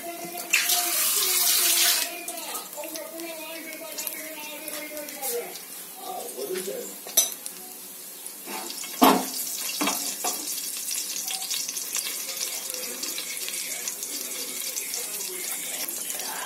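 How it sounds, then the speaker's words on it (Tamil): Fennel seeds dropped into hot boiling oil for a crab gravy, giving a steady hiss and crackle that runs through the whole stretch, with a brief louder burst near the start and occasional clinks. "கொதிக்குது பாருங்க, எண்ணெய் கொதிக்குது பாருங்க, தெரியுதுங்களா?"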